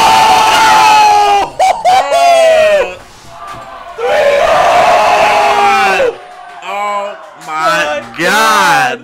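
A live fighting game tournament crowd roars and cheers wildly in loud surging bursts, with yells and whoops over and over and brief dips between the waves of noise.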